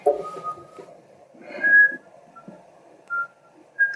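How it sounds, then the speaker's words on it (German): A person whistles a few short, wavering notes of a tune, close and fairly quiet, with soft pauses between phrases. "Ich finde das Pfeifen viel angenehmer"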